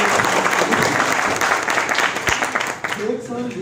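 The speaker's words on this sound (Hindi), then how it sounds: "आप लोगों को बेबी कितनी पसंद आ रही है, तालियों की आवाज के साथ बताएंगे" An audience at a Bollywood film promotion event claps loudly and continuously, the applause thinning slightly toward the end as a few voices surface.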